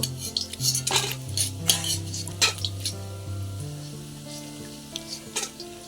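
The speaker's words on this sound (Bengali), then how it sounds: "বন্ধুরা এখন আমরা পকোড়াগুলো নামিয়ে নেব।" Fried pakoras lifted out of a frying pan, with metal utensil clinks and scrapes against the pan over a steady background sizzle of oil, close and without speech.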